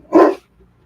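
A single loud, sharp bark from a nearby dog set off by a neighbor's truck starting, followed by brief quiet.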